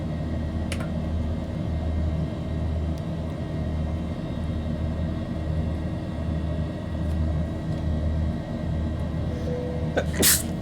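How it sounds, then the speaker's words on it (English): A sneeze bursts out near the start over a steady, loud airliner cabin drone from a Boeing 737-800 in flight, with a second sharp burst near the end. "I don't know why I've been sneezing all day."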